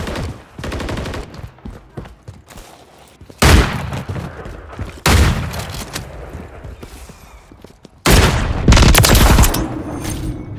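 Call of Duty MW3 gunfire rattles in several loud, close automatic bursts, with sharp onsets around the middle and a long final volley, and busy lower-level shooting filling the gaps.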